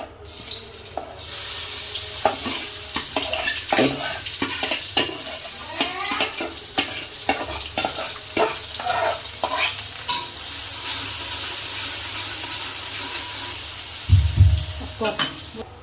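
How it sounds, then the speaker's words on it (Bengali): Onions fry in a wok, giving a soft, steady sizzle under repeated clinking and scraping strokes of a spatula stirring the pan, with a brief, louder clatter near the end. "এজন্য দিয়ে দিলাম পেঁয়াজ। আর পেঁয়াজটা বেশি ভাজবো না।"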